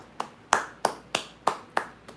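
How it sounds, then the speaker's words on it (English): Six sharp, evenly spaced hand claps ring out close and fairly quiet, as one or two people applaud channel members during a live Saturday Q&A stream. "Round of applause for them,"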